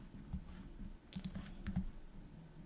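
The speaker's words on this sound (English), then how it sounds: "We are going to click next." Several faint mouse clicks, a single one then a quick cluster of three and a close pair, during a Windows 10 installation on a computer in a quiet room.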